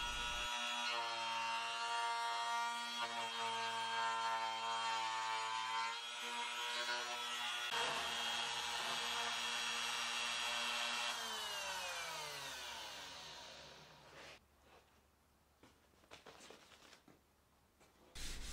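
A router whines loudly and steadily while shaping a wooden guitar body, its pitch shifting as it works, then winds down and stops, leaving quiet handling sounds.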